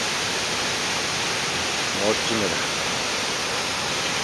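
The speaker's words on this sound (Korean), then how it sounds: "물이 아주 많이 흘러오네요. 폭포 소리도 아주 우렁차고" Cheonjiyeon Waterfall in Seogwipo, Jeju, swollen with heavy flow, roars as a loud, constant broadband rush filling the whole scene, while someone briefly speaks over it midway.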